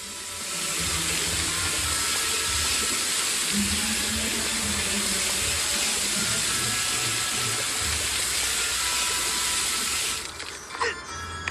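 Steady broadband rush of flowing water in LEGO Batman 2: DC Super Heroes, a continuous loud hiss lasting about ten seconds before cutting off abruptly, with faint low game tones underneath.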